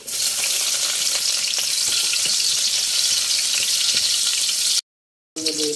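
Garlic and onions fry hard in a pan, a loud, dense, steady sizzle close by for about five seconds. The sound cuts off briefly to silence, then the crackling returns.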